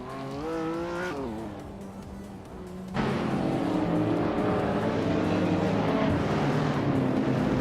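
A 2019 Ferrari Portofino and rival cars in a racing game launch from the rallycross start, engines climbing in pitch before a sudden loud, sustained surge of roaring motors from about three seconds on.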